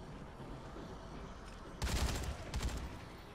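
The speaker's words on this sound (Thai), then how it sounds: "ปืนแรงจัง" A gun firing in the video game Dead Rising 3: two short bursts of shots ring out near the end, loud against a low, steady background hum.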